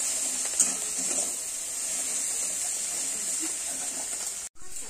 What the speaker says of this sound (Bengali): কাশ্মীরি লঙ্কার গুঁড়ো, গোটা কাঁচা লঙ্কা চেরা দিয়ে এটা আমি ভালো করে কষিয়ে নেব।